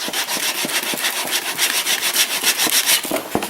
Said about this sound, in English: Now you can also take a piece of Scotch-Brite and get down in there.